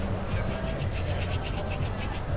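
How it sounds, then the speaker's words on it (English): A hand reamer works the bore of a graphite fishing rod grip with fast back-and-forth rasping strokes, a close and steady gritty scraping in an even rhythm with no talking. "So I'm going to just ream this out just a skosh more."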